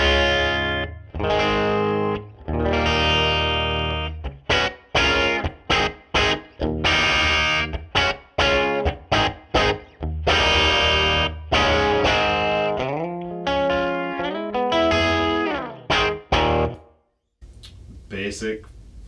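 Electric guitar through a Metropoulos Supa-Boost pedal into a Marshall Lead 12 amp, boosted overdriven tone playing chords, stabs and lead lines with gaps, ending on a decaying note, with no talk over it.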